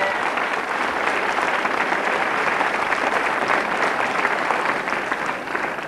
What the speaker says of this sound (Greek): Χειροκρότημα στο Φώτη.